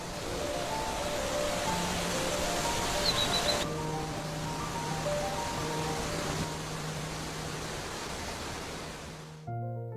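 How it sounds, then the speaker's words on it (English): Mullafossur waterfall on the Faroe Islands drops from a 30-meter cliff into the ocean, producing a steady broadband rush of falling water and surf that holds for several seconds before cutting out. "plunging straight from a cliff about 30 meters high into the deep blue ocean"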